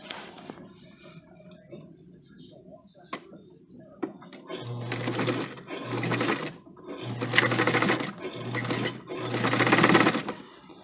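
A sewing machine stitching four layers of interfaced fabric runs in five loud, laboring bursts with short pauses between, preceded by quieter handling clicks and rustling.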